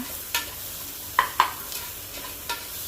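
Spices with turmeric powder are sautéed in a pan for a coriander kurma, a soft sizzle under a few sharp, close scrapes and taps of the stirring spoon.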